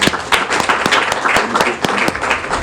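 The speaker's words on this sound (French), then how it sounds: "On peut applaudir encore une fois." Loud applause from a crowd, dense steady clapping with a few sharper claps standing out, continuing throughout.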